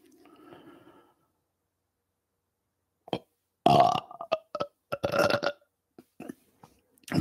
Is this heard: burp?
yes